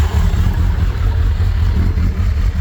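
A warmed-up 2001 Suzuki Hayabusa GSX1300R with a Yoshimura exhaust runs close by with a loud, throaty, deep engine rumble that pulses unevenly as it is revved.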